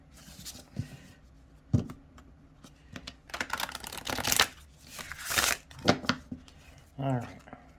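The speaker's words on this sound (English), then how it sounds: "Let's do one good shuffle." A deck of oracle cards is shuffled by hand in several quick riffling bursts of papery slaps and flutters, close and fairly quiet, with pauses between them.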